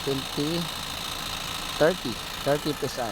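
Hyundai Accent CRDi engine running while its air conditioning has stopped cooling because of a holed condenser, a steady low mechanical hum beneath someone talking close by.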